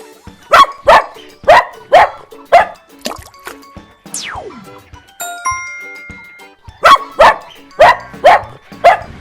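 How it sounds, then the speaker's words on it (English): A dog barks in loud, close, rapid pairs and runs of barks. A brief break partway through holds a descending tone and chime-like plinks before the barking resumes. "Brown dog."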